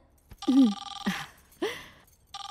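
A telephone rings in short bursts separated by pauses, fairly loud and close, with a brief low sound near the start.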